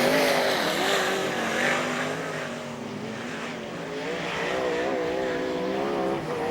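Sprint cars race around the Charlton Raceway speedway, their engines a steady loud roar with rising and falling pitch as they circle the track, continuous throughout without any talk.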